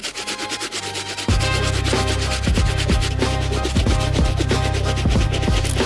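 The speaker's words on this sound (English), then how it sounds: "we're gonna be starting off with the soft bristle brush." A soft bristle brush scrubs the felt uppers of Brooks running shoes, giving steady, continuous rubbing strokes that sound close and fairly loud, with a brief quieter stretch at the start.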